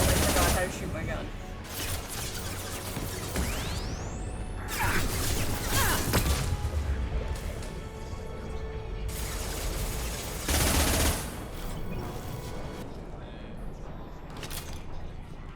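Bursts of gunfire and mechanical clatter from a firefight in Mass Effect Legendary Edition come in repeated volleys, loud and close, with a rising whoosh partway through and a person talking over the action.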